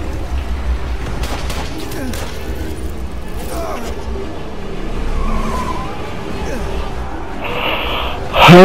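A car drifting in a Spider-Man video game, with engine noise and tire skids over a rumbling bed, followed by a loud squeal near the end; a player's voice talks over it.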